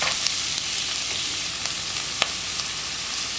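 Sliced onions frying with salt in a pan for a mutton curry, a steady close sizzle and crackle with a few small pops and no talking.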